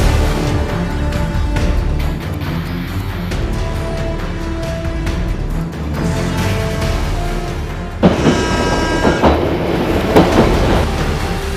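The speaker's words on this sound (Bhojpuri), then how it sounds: "ई ट्रेन कहाँ जाई?" A passenger train runs steadily on the tracks with a continuous rumble and rhythmic clatter, loud and close throughout, with a brief squeal or brake hiss toward the end and little talking.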